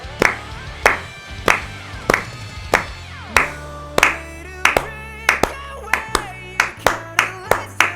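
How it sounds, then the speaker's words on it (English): Hand claps beat out a steady tempo, first in slow, evenly spaced strikes and then at a quicker pace, loud and close, set over ringing music from a K-pop song. "I'm going to clap the tempos."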